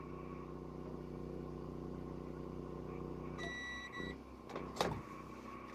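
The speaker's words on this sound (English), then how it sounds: "The generator's working hard." A generator runs hard in the woods, a steady droning hum that shifts partway through, with a few brief clicks and a sharp knock near the end, heard faintly.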